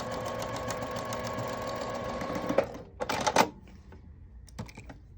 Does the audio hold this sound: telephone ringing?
no